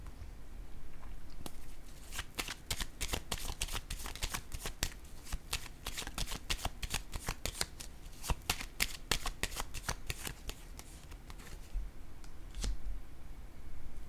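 Tarot cards handled, shuffled and laid down on a table during a reading, giving a steady run of dense, crisp flicks and soft slaps close by, with no talk over them.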